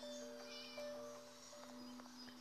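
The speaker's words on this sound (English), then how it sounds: "I can hear you, kitty." Cat meowing inside the Scary Teacher video game, a few short mews over a steady hum of in-game background sound, fairly faint and with no one talking.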